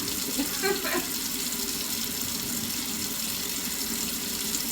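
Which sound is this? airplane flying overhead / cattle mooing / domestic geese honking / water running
water running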